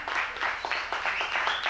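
Audience applause at a blues band concert, a modest round of rhythmic clapping from a small crowd, fairly faint and steady throughout.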